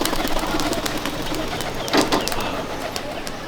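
High flying pigeons at a loft in Pachgram, Murshidabad, coo softly amid steady outdoor bird chatter, with one fuller call rising near the middle.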